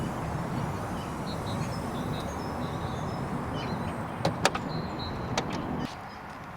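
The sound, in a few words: Audi A4 Avant 2016 power boot opening and closing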